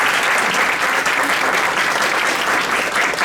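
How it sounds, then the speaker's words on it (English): Audience applause at a judicial forum, dense continuous clapping from a seated crowd, loud and even throughout. "give Josh a big round of applause"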